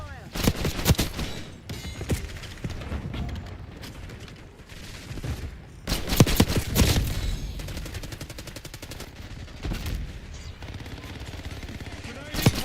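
Call of Duty Black Ops 6 Maelstrom combat, with dense, close automatic gunfire bursts rattling almost continuously, heavy volleys hitting hard in places, under faint radio-style voices.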